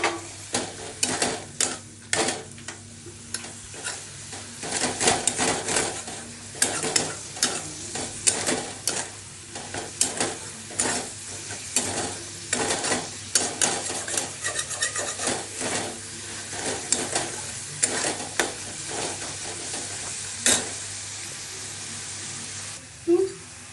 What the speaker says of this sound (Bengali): এখন চিংড়ি মাছগুলো দিয়ে দিচ্ছি।